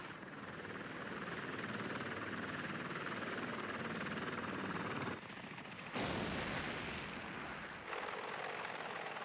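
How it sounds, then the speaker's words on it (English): Cheyenne attack helicopter firing a TOW missile: a loud, steady rotor and engine roar is broken by abrupt cuts and a sharp blast-like surge, then the heavy roar continues, with no voices. "The gunner's sight is still dead on, allowing him to immediately fire one of the TOWs."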